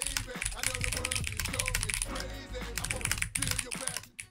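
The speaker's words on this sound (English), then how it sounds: "It's a small keyboard, but I'm, I'll get used to it." Fast typing clatters on a small computer keyboard, dense rapid key clicks that run almost nonstop at close range, with someone talking over them.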